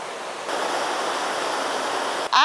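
A waterfall on a hiking trail near Tbilisi, Georgia, gives a steady, dense rush of falling water that swells a little partway through and holds even. A brief sharper sound cuts in at the very end.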